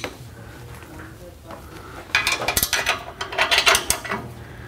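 A ratchet clicks in quick bursts while exhaust bolts are torqued down on a BMW 1M fitted with an imported HMS exhaust, a quiet stretch giving way to loud, close metallic clatter and ratcheting.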